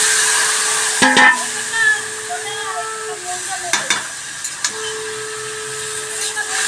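Garlic fries in hot oil for a silver carp curry, a loud steady sizzle with a faint hum beneath. Stirring scrapes and clatters cut in now and then, and faint voices briefly sound in the kitchen.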